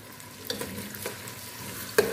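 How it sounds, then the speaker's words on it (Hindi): Onions sizzle in hot oil in a deep cooking pot, with a soft steady frying hiss and a few sharp clinks of a spoon stirring against the metal, close up and without speech. "इसके बाद 3 से 4 प्याज लेके इसको हम देचकी में डाल देंगे और इसको हमने लाइट गोल्डन करना है।"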